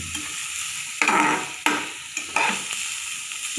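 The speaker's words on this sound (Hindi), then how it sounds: "हम इसमें अब डालेंगे प्याज, थोड़ा सा सौते सा कर लेंगे" Onions sautéing in a hot pan for mini pizza topping, a steady frying sizzle broken by three or four louder bursts as a spoon stirs and scrapes them, close and alone without speech.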